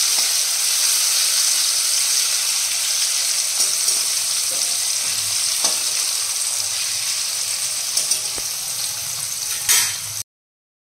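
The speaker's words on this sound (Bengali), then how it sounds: "উচ্ছে আলু ভাজা করো" Bitter gourd and potatoes fry in a pan, giving a steady, close sizzle with occasional stirring clicks and scrapes throughout, no voices over it.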